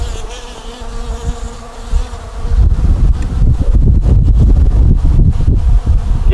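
Honey bees swarm and buzz loudly around a hive as a queen is put back inside, a dense, close hum with bursts of wind and rustling.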